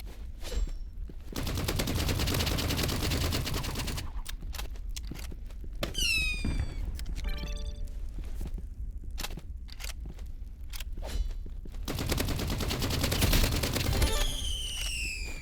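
Rapid assault-rifle bursts in a Roblox Rivals fight, loud and close, fired in repeated strings with short gaps between them, plus a few whistling, sweeping effect sounds in the middle and near the end, no talking.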